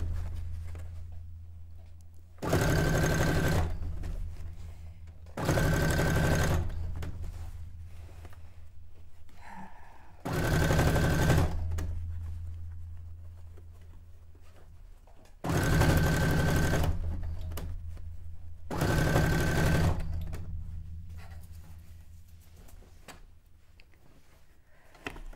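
A sewing machine runs straight stitches on fabric for a cone-shaped cape, five distinct bursts of rapid mechanical whirring, each a second or two long, separated by quiet pauses.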